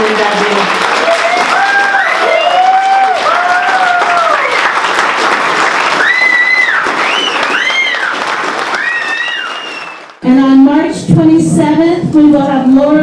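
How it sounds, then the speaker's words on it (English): An audience claps warmly for a couple being honored at a ski-culture talk, a steady dense round of applause lasting about ten seconds before it breaks off and a voice resumes speaking nearby. "Can we have a warm round of applause for Jean and Dadou?"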